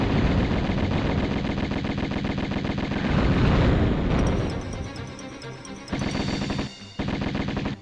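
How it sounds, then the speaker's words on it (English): Lara Croft's dual pistols firing in Tomb Raider, a dense, relentless stream of rapid shots layered with game effects and heavy booms, loud and close, easing briefly then resuming in bursts toward the end. "So I pull out my guns and pretty much immediately start shooting."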